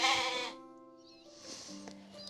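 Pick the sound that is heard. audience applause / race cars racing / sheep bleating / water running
sheep bleating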